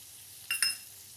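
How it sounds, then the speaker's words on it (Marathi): Turmeric and red chili powder stirred into green beans frying in a pan, giving two brief close scraping sizzles about a tenth of a second apart over a low steady background hiss. "तर तिखट टाकल्यानंतर आपल्याला इथे मिक्स करून घ्यायचं आहे"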